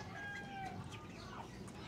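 Darag native chickens in an elevated coop cluck softly, faint and somewhat distant, with a few short calls over a low background.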